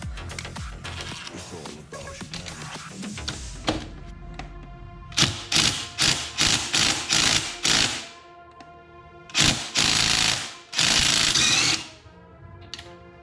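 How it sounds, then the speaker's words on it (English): A socket wrench with 14mm and 19mm sockets ratchets a bolt loose on a 2019 Honda Grom's rearsets, the quick clicking coming in repeated close, loud bursts separated by short pauses. "you're gonna need a 14mm socket for the other side and a 19mm socket for this side to break this loose"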